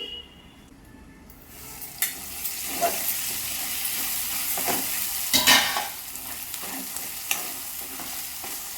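Masala paste for a mutton dish is stirred and fried in oil in a pan, giving a steady close sizzle with repeated scraping stirs and a few louder clatters of the spoon against the pan.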